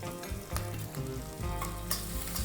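Chopped ginger and green chillies sizzle loudly in hot oil in a pan while being stirred, a dense steady crackle with a few scraping stir sounds and no talking.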